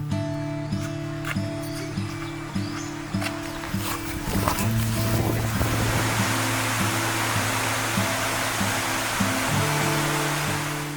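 River water rushes steadily and loudly as a 12-year-old grade 6 student wades across a river deeper than knee height on his way to school, a broad noisy wash with a humming tone running underneath.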